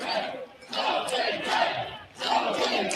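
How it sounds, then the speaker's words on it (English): A crowd at a Nebraska baseball game roars after a bases-loaded hit to deep right-center field, with loud cheering and yelling swelling in repeated surges. "listen to the crowd"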